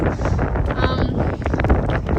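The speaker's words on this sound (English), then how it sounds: "The wind is brutal" Strong cold wind on a snowy mountain trail buffets the microphone in a constant roaring rush, loud and close, with gusts swelling and fading throughout.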